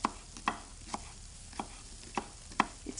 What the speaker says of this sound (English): I'm just going to get on with a bit of chopping.